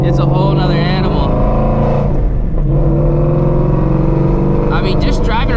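Shelby GT350 Mustang with headers, driving along with a loud, steady engine and exhaust drone and a voice talking over it, with a sharp crackle near the end.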